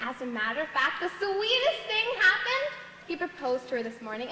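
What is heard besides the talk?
None of the usual background noises is heard.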